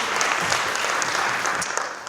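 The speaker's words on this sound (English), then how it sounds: "Let's give Carla another round of applause." An audience at a live poetry and musical performance applauds with steady, dense clapping that holds for the whole stretch and tapers slightly at the end.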